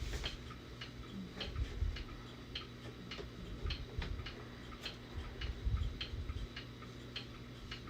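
Several clocks tick steadily together in a quiet room, crisp, evenly spaced clicks close by and fairly soft over a low background hum, with no voices.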